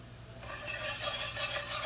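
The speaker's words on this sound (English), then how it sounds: "I'm going to sprinkle it into the oil, still have it on medium high, and I'm gonna whisk." Flour is whisked into hot oil on medium-high heat for homemade gravy, giving a steady scraping and stirring swish over a soft sizzle that grows busier and louder after the first half second.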